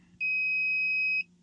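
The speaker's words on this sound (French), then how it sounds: "J'ai un bip" A Hansshow V6 car door handle control gives one steady electronic beep, about a second long, clear and alone against a quiet background hum.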